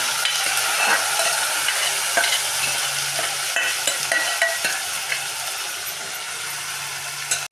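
Pre-cooked mutton, about a quarter kilo, is tipped into a hot pan for a pepper mutton fry with fenugreek leaves and sizzles loudly and steadily while a spoon scrapes and stirs it, close and continuous.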